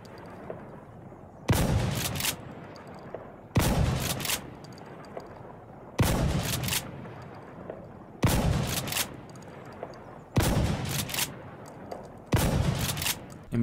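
Five heavy, booming blasts from an M870 pump shotgun loaded with slugs in the Insurgency Sandstorm video game, fired at long range, each one loud and evenly spaced about two seconds apart with a rolling tail over a low ambient hum.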